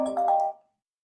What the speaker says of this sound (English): I like the ringtone.